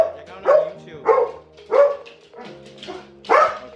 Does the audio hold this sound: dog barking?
yes